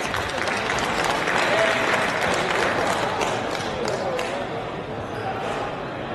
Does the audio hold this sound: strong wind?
no